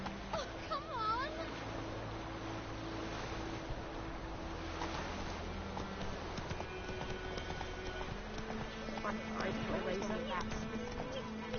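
Rhythmic hoofbeats of Roach, Geralt's horse in The Witcher, galloping across the ground, moderately close and steady under a character's speaking voice and faint background ambience.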